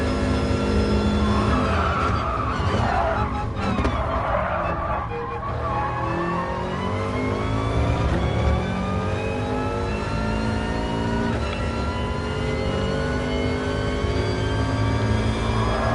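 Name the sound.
race car engine in Gran Turismo Sport video game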